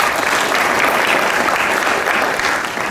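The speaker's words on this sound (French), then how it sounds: "Applaudissez-le encore" Dense, steady applause from an audience cheering slackliner Nathan Paulin at an event introduction, a continuous wash of many hands clapping for the full three seconds, easing slightly at the end.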